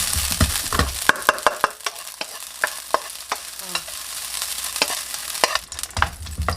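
Leftover linguisa sausage reheating in a frying pan, a constant sizzle broken by repeated sharp clacks and scrapes of a utensil stirring, close and loud, with no talk.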